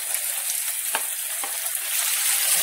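Chopped bacon and garlic sizzle in a pan alongside softened onions, a dense continuous hiss with a few stirring knocks, close and fairly loud, no talking.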